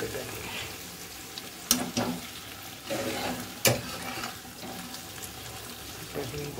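Tomatoes and onions cook in a pan with a steady close sizzle, broken by a few sharp clinks and scrapes of stirring.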